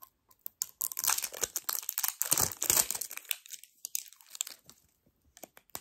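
Plastic packaging of a mango-scented makeup setting powder being unwrapped close up, with bursts of crinkling, tearing and crackling that build through the middle and then trail off into a few scattered rustles, with no talking.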